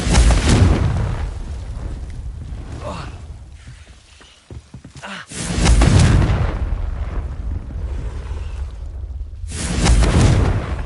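Confringo explosion spell going off in Hogwarts Legacy, several heavy booming blasts separated by quieter stretches, with a sharp crackle midway and faint voices in between.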